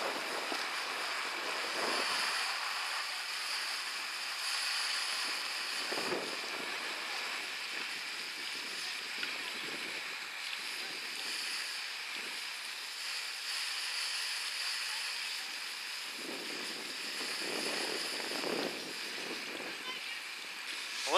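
Strong wind blows outdoors while a multi-fuel camping stove is being tested, making a constant broad rushing roar with buffeting gusts against the microphone, and faint talk underneath.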